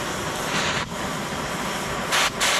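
An oxy-acetylene cutting torch roars as a steady broadband hiss, surging louder in short bursts as the gas is turned up, close and alone.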